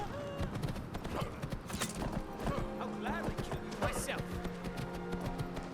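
Horse hooves clip-clop on the ground in the Skyrim video game, with a short whinny, among game music and effects; a voice talks over the scene.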